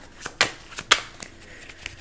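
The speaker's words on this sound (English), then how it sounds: "okay, let me shuffle because I'm just not feeling." Tarot cards being shuffled by hand, a handful of crisp riffling snaps and flicks at uneven intervals, close and fairly quiet.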